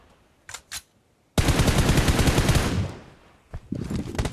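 Sustained automatic gunfire from PUBG Mobile on the Livik map: a dense, loud burst of rapid shots lasting about a second and a half, framed by a couple of short quieter shots before and after.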